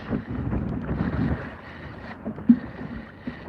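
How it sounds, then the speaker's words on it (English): Wind buffets a microphone covered by a foam wind sponge on a kayak at sea, giving low rumbling gusts with a couple of sharp bumps, close and continuous with no speech. "I am sitting with the wind to my back, so you got me diffusing it and the sock, you know, the wind sponge."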